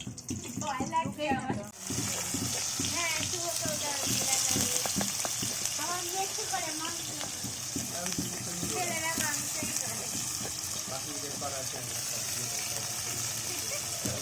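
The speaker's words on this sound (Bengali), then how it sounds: "এই যে দেখো, ডিমটা ভাজা শুরু হয়ে গেল" Egg frying in a pan with a little turmeric during an outdoor picnic cook-up, giving a steady, close, broadband sizzle that runs throughout while voices talk over it.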